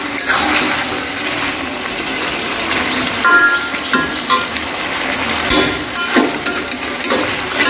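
Meat frying in a pan for a Bangladeshi bhuna, stirred now and then over low heat, giving a loud continuous sizzle with scraping and clinking stirs, no voices.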